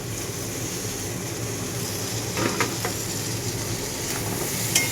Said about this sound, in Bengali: তো এতে আলুটা আমি অ্যাড করে দিচ্ছি।